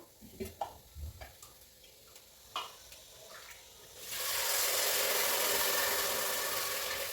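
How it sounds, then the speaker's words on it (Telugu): A few light clicks and taps, then a sudden loud, steady rush and hiss as two cups of water are poured into a hot pan of frying moong dal. "ఇప్పుడు ఇందులో వాటర్ వేసుకుందాం మనము"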